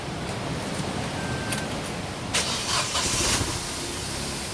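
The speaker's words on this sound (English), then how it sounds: "Car starts, always a good thing." A car engine cranks and fires after a mass airflow sensor repair, with a short burst of starter noise before the motor catches and settles into a steady running rumble, close by and alone.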